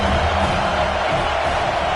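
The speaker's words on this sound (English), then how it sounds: "The Tide crowd roaring noise down onto Saban Field on third down." A football stadium crowd roars on third down at the Alabama Crimson Tide's Saban Field, a loud, sustained wash of noise filling the whole stretch.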